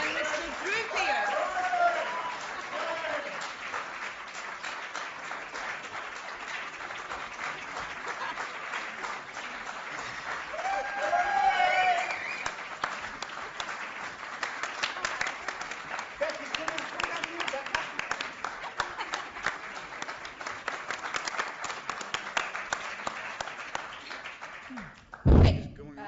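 Sustained applause from an audience at the UK press conference for Iron Man 3, a steady wash of clapping that swells around the middle and ends with a sharp thump, with voices faintly mixed in.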